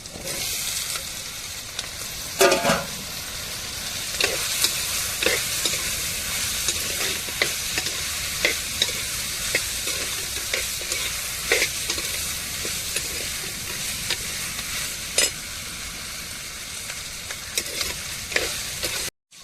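Potatoes sizzle and fry while being stirred into an egg curry, a steady crackling hiss broken by frequent scraping clicks of a utensil against the pan, close and continuous throughout.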